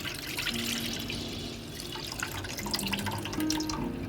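Milk poured from a packet into a pot to heat for rasgulla payesh, a steady liquid stream and splashing with faint dripping, continuous and fairly close, with no talking.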